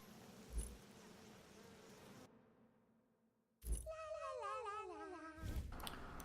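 Buzzing bees from a damage-over-time ability in the video game Smite, a high, wavering insect drone that follows a short silent gap, rising sharply and holding loud over game noise.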